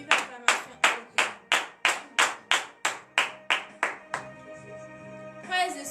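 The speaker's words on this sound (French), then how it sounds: "Donnez de vives acclamations à" A church congregation at a morning prayer service in Benin claps steadily and rhythmically, about a dozen loud in-time claps, followed by a sustained tone and a brief burst of voices.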